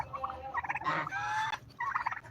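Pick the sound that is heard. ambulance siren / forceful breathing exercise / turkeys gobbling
turkeys gobbling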